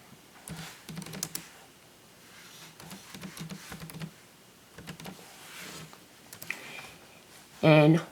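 Computer keyboard typing in short, quiet clusters of keystrokes separated by pauses, ending with a louder burst of sound.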